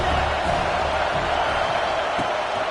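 Steady roar of a stadium crowd in an Auburn college football video game, a dense wash of noise filling the whole stretch with no breaks, loud and continuous beneath the game.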